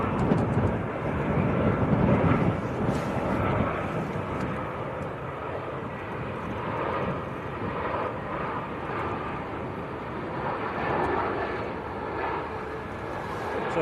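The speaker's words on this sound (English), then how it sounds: "British Airways from Heathrow. Next to land." A British Airways Airbus A320 from Heathrow comes in to land at Manchester Airport, a steady broadband engine roar holding at moderate distance throughout, with no voices.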